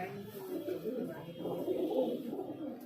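Highflyer pigeons, including a Teddy female, coo softly in a loft in Amravati, a low murmuring rumble running steadily through the whole stretch with faint movement around it.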